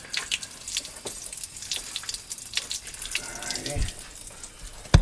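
Water from a garden hose runs steadily through a rusted radiator of a Foxbody Mustang, a continuous close hiss and splash with small gurgles and drips, and a brief knock near the end.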